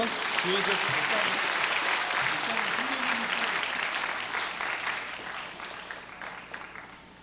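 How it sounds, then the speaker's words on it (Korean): A church congregation applauds together during a worship service, a loud, steady wash of clapping lasting several seconds and tapering off at the end, with a voice speaking briefly over it at the start. "우리 박수로 격려해 주시고요."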